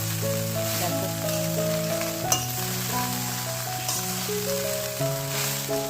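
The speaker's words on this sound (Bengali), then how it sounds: "গোটা দারচিনি এসব দিয়ে কাজু বাদামটা একটু নেড়ে চেড়ে ভাতটা ঢেলে দিলাম" Rice tipped into a hot pan with whole cinnamon and cashews, crackling in a steady broadband sizzle throughout, with music playing over it and a brief clatter midway.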